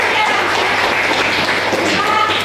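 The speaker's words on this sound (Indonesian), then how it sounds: "tepuk tangan" A crowd claps steadily in dense, continuous applause, loud and close, with some voices mixed in.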